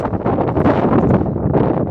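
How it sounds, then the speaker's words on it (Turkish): Gusty wind buffets the microphone at the Seydi Yakup tomb, a constant rough rushing roar with no voices. "Öyle rüzgar var."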